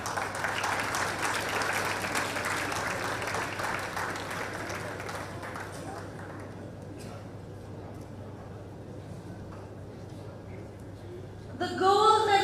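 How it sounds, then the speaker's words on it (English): An audience applauds at the men's 10 m air rifle medal ceremony of the ISSF Shooting World Cup in Bhopal. The clapping is loud and dense at first, then thins and fades to a quiet tail. "please put your hands together for a round of applause for the 10-meter air rifle men gold medal winner"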